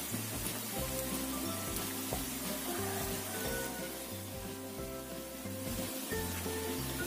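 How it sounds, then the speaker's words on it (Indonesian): Rice vermicelli dough balls deep-frying in hot oil give a steady, close crackling sizzle that runs without pause, with tonal background music underneath. "Kemudian kita goreng adonan sampai matang."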